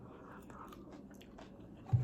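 Someone chews fried potatoes up close with soft, faint crunching and wet bites, quiet and intermittent, ending in a brief louder thump.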